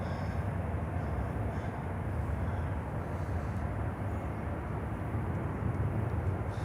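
A large jet on approach to runway 9 at Miami International Airport gives a continuous, loud, broadband roar with deep rumble, steady throughout with no talk.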